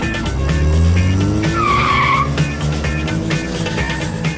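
A Ford Transit van accelerates hard with its engine roaring and tires squealing through a skid, a loud, continuous rush that rises into a screech before settling back into steady engine noise.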